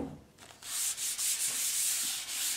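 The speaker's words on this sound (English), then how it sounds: "I was just sanding along the edges and cleaning out the chamfers here." Hand sanding along the edges and chamfers of a knotty pine cabinet door, a close, soft rhythmic rubbing with short strokes repeating steadily.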